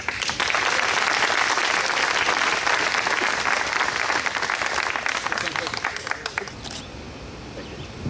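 Sustained applause from the audience at a village swearing-in ceremony for a new trustee, a dense, even roar of clapping for several seconds that thins out near the end, with some talk mixed underneath.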